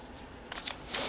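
Tarot cards are shuffled close up in a few short, soft riffling bursts over a quiet background.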